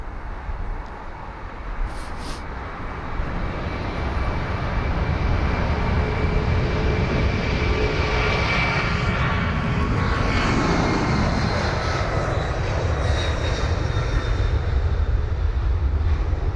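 An Airbus A300 freighter registered in 1991 takes off at Heathrow, its jet engines building to a loud, sustained roar with deep rumble and broad hiss that stays near and strong.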